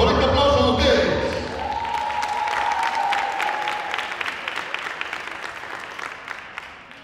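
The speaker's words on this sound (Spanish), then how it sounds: "Con este aplauso de ustedes." An audience at a gala ballet performance breaks into loud, dense applause that tapers off over several seconds, with scattered individual claps at the end and an announcer's voice at the start.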